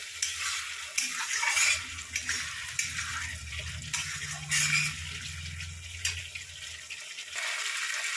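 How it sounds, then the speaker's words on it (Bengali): Spiced potato and pointed gourd being sautéed and stirred in a pan, a steady close sizzle with scraping stir strokes and some watery hiss, a low hum underneath, no talking. "এবার আলু মশলা আর এই পটলের সঙ্গে একসঙ্গে ভালোভাবে কষিয়ে নেবো"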